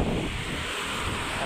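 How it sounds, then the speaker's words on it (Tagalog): Strong wind buffets the microphone along the seaside boulevard in Ozamiz City, a steady, loud roar with no let-up and no voices. "Sobrang lakas ng hangin guys, parang naka-aircon ka yan."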